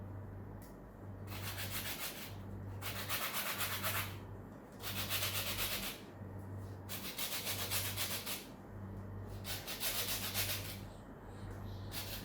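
Lemon zest grated for a fish batter while smoking tuna over charcoal: about ten close, rhythmic rasping strokes separated by short pauses, with a steady low hum underneath.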